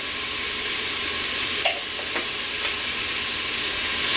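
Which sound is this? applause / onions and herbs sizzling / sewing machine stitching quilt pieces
onions and herbs sizzling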